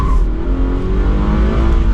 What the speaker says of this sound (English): You can tell that was the first attempt doing that, how we actually spun the tires.